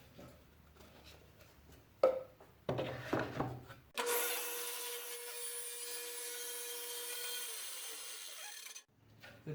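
Saw cutting wood on a crosscut sled: a few short knocks and scrapes, then a loud sustained cutting roar for about five seconds that ends abruptly, followed by quiet.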